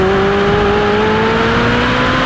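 A race car powers through a lap on track, its engine revving hard and loud in a steady, rising whine close by.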